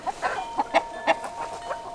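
Backyard chickens clucking nearby, a run of short, rhythmic clucks at about four or five per second, close and clear over quiet surroundings with no talking.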